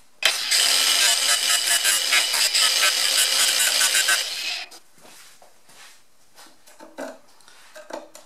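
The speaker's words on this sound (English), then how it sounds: "get the grinder with the cutter wheel on it, and I'm just gonna cut a couple slots" An angle grinder with a cutter wheel bites into a cedar fence board, loud and close for about four seconds of harsh steady cutting, then stops, leaving faint scattered handling clatter.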